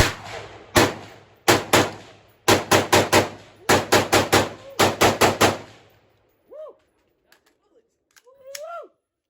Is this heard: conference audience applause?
no